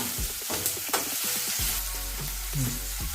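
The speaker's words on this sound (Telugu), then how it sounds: "కలబెడుతూనే ఉండాలి నాలుగు వైపులా" Spoon stirring capsicum masala curry as it fries in a pan, a steady loud sizzle with repeated scraping strokes and clinks, close up and without talk.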